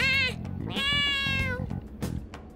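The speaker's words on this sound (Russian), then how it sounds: "много мяукает эта кошка" A cat in the video game Persona 5: Scramble meows several times in quick succession, clear and close, with game sounds underneath and no talking.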